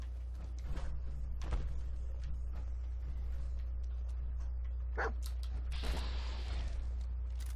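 Dogmeat the dog in Fallout 4 gives a few scattered barks and yelps over a steady low game hum, with short clatters and combat noises in between.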